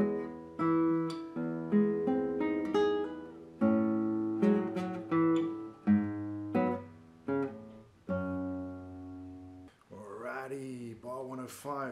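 Classical guitar plays bars 101–105 of Roland Dyens' Valse en Skai, plucked notes and chords in a lilting waltz rhythm, clear and close, ending with brighter strummed and harmonic-like passages.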